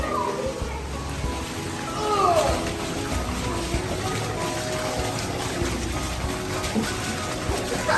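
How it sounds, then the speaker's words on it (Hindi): Rainwater from the first rain of the season drains down off a roof, a steady trickling and splashing wash that carries on throughout with faint background voices. "छत से ये ड्रेन होके पानी नीचे आ रहा है"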